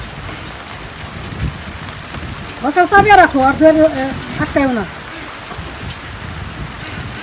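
Heavy rain pours steadily over a Bangladeshi village on a stormy rainy-season day, a constant hiss that runs the whole time while a voice talks briefly in the middle.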